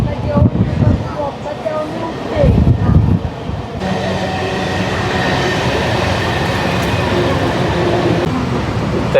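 A Mumbai local train pulling into Karjat station: rumbling wheels and carriage noise heard from on board, with some voices early on, settling into a steady loud rolling roar.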